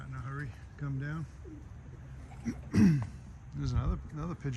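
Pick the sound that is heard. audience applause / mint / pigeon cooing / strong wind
pigeon cooing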